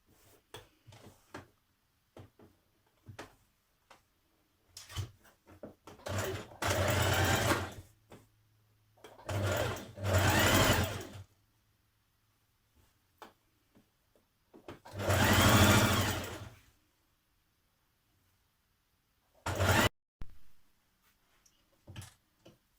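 A sewing machine stitches a maxi dress from the Simplicity 8635 pattern in several separate bursts, each a few seconds long, with quiet pauses and small handling clicks between them.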